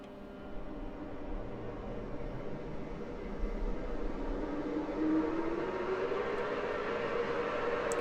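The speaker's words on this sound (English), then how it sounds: "We're going to select start right engine, and we're going to hit the ground start button." In the DCS video game, a MiG-29A's right engine spools up during a ground start: a steady, broad turbine roar with a whine that climbs steadily in pitch over several seconds.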